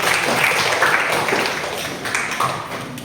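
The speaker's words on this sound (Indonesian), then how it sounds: "Oke, tepuk tangan dulu untuk semua." A classroom audience of students claps together for a group presentation in a steady, dense patter that holds at an even level for about three seconds, with faint voices mixed in.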